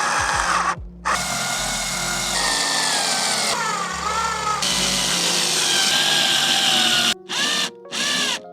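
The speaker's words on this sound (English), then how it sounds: "when you're drilling this in, make sure you don't over drill it" A power drill drives black screws into the front lip of a 2025 Honda Civic Si body kit, with several long close whirring bursts separated by brief pauses and short stuttering pulses at the end.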